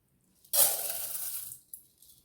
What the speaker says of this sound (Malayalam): നന്നായിട്ട് കഴുകിയെടുത്ത ഈ പച്ചരി നമുക്കൊരു ബൗളിലേക്ക് ഇട്ട് കൊടുക്കാം